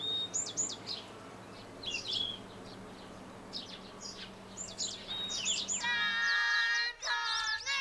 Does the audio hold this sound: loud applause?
no